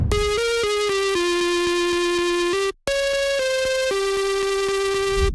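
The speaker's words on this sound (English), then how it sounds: "I'll start with the lead called Ashes." A bright synth lead preset named Ashes plays a stepping melody of sustained, rhythmic notes in a drum and bass production, loud and alone, with one brief gap midway.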